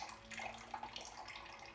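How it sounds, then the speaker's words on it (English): Film developer fluid pours and splashes steadily out of a developing tank, a continuous watery gush close by, with no voices. "you simply pour the developer fluid"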